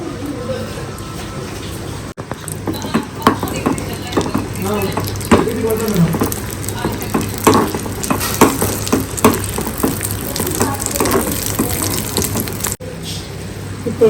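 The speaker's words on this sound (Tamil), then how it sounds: "இப்போ வந்து இந்த நெய்யில் வந்து நெய்யும் முந்திரி பருப்பு போட்டுருவோம்." Cashew nuts fry in ghee for a sweet ukkarai, sizzling steadily and loudly up close, with stirring scrapes and someone talking over the crackle.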